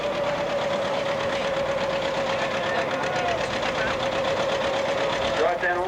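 Engine of a John Deere 720 tractor pulling a sled at a 1985 Quambatook tractor pull, a steady loud drone with knocking pulses throughout, crowd noise and a voice faintly beneath.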